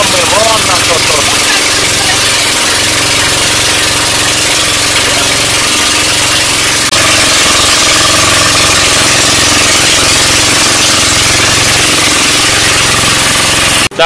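A boat engine with a burned-out muffler runs loud and close, a constant rough mechanical roar with a slight shift midway, heard on an island excursion off Panglao in the Philippines.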